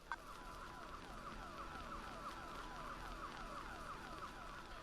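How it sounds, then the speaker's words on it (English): Helicopter cockpit warning beeping from a rotor system exceedance: a steady run of rapid, evenly spaced electronic chirps, each sliding downward, repeating about three times a second over constant cabin noise. "There are extreme exceedances to the rotor system, and that's the beeping that you hear in the background."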